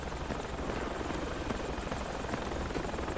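Helicopter rotor drone in the military shooter game Project Reality, a steady, dense whirring hum that fills the whole stretch at constant level, with no voices.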